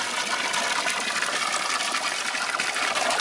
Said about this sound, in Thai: สาธิตความแรง ดันของน้ำครับ ใช้ไฟเพียงแค่ 12 โวลต์นะครับ